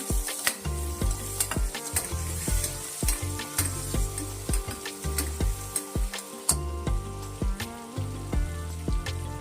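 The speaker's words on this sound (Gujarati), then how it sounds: "લીલા મરચું વટાણા એ બધાને આપણે મિક્સ કરી લઈશું" Green chilies and peas sizzle and fry in a pan for Kathiyawadi khichdi, with a spoon scraping and stirring in steady, close strokes over a continuous loud hiss.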